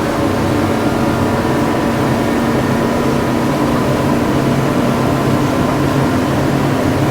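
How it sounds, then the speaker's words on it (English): Twin engines of a Regal LX 43 boat cruising at speed, a steady loud broadband rumble and rush of wind and water with no breaks. "You barely even hear the engines running."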